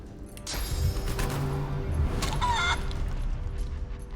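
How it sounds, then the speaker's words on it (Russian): A chicken clucks in Divinity: Original Sin 2, an enemy turned into a hen by a spell. The clucks are fairly close and loud over a steady game background hum, with no talking. "Я могу сделать его курочкой."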